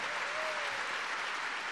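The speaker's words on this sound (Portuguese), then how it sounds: "Uma salva de palmas" Congregation clapping at a Catholic homily in a shrine, a loud continuous wash of applause filling the whole moment.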